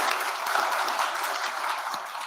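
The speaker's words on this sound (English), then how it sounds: "Please give her a big round of applause." Sustained applause from an audience at the official opening of a business event, a steady wash of many hands clapping at moderate distance, with no talk over it.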